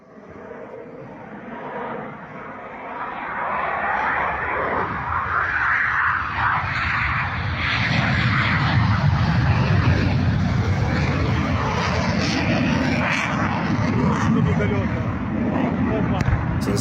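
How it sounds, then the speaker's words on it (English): Ukrainian MiG-29 fighter jet taking off from an airbase under strikes: a broad, steady engine roar that swells and holds loud throughout, with rumbling low end and indistinct voices underneath. "Ukrainian MiG-29 taking off during strikes on an airbase."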